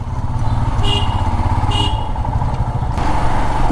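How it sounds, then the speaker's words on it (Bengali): A freshly washed motorbike is ridden on a town road, its engine giving a close, steady, throbbing drone, with faint high tones briefly rising above it. "গাড়িটা ওয়াশিং করে সত্যি মনে হচ্ছে যেন একদম নতুন হয়ে গেল আবার গাড়ি আমার, লিটারেলি বলছি, হেভি লাগছে চালাতে বাইকটা।"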